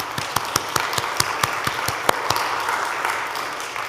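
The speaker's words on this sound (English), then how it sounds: "Sarah's clapping, yay" At a Sunday church service, a congregation claps to welcome returning visitors, with sharp hand claps in a steady, rhythmic pattern over a busy room murmur, fairly close and clear.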